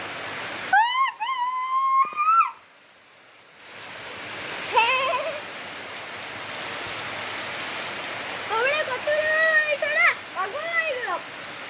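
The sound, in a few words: heavy rain outside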